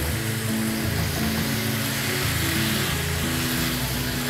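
Chicken breasts sizzle in a frying pan, a steady, close, even hiss of frying that runs without a break, with a faint low tonal hum underneath and no talking.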